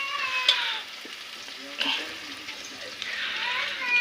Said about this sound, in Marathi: कांदा मस्त फ्राय होते आपला